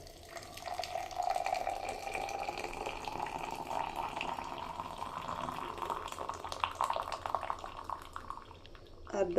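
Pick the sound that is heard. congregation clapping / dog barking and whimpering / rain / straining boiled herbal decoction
straining boiled herbal decoction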